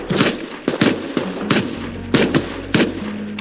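Gunfire in the Rust video game cracks out in loud, sharp bursts, roughly five or six separated blasts over a few seconds, close and punchy.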